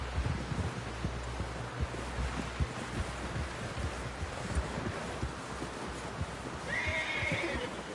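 In the video game Red Dead Redemption 2, a horse whinnies near the end over steady wind noise and faint hoof clops, with a low rumbling background throughout.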